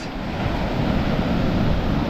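Sea waves wash steadily onto a beach at Playa Jandia, Fuerteventura, making a loud, continuous roar of surf mixed with wind. No one speaks.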